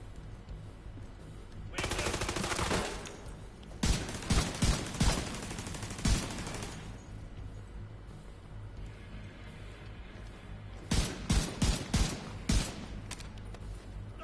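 Gunfire in the video game The Division 2: bursts of automatic fire and repeated single shots, loud and close, with quieter ambient stretches between the volleys.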